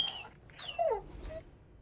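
A person imitates a dog, letting out a short, faint whimpering wail that rises and falls in pitch over a second or so, with quiet gaps around it.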